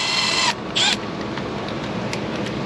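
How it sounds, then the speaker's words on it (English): Impact gun spinning a nut off a junk starter from a 2007 Chevrolet Monte Carlo SS 5.3 V8, one loud half-second burst followed by a shorter second burst, then quiet shop background. "normally I wouldn't use impact guns on starters, but since this one's junk, I don't care."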